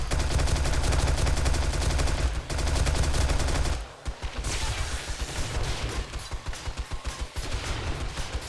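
SMG fire during a day 70 horde night defending a base in the video game 7 Days to Die, with a long unbroken stream of rapid shots followed by a series of shorter, sharp bursts, loud and close.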